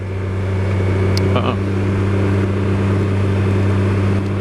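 A motorcycle rides along Tellico Road, its engine a loud, steady low hum under wind rush, with a brief clatter midway and a voice faintly present.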